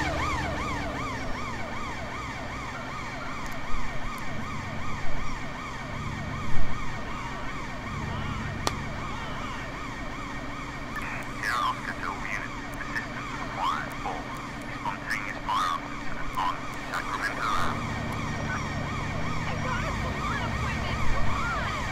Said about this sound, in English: Why is that ambulance stopping at a red light when it's got its sirens on?